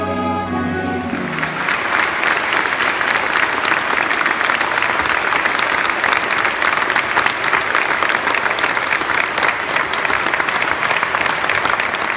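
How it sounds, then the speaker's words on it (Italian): A concert audience in a collegiate church bursts into long, loud, sustained applause, dense clapping that fills the space steadily for many seconds. "apprezzato ed applaudito da una platea che è esplosa al termine delle esecuzioni in un lungo applauso"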